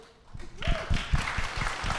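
Applause rises from an audience at a panel event on the 2024 election, starting thin and swelling into a steady patter of clapping, with a voice speaking over it at the start.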